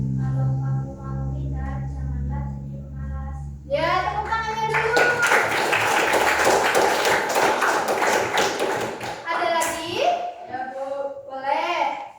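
A class of junior high school students applauds together, a dense burst of hand clapping lasting several seconds between stretches of a teacher's speech.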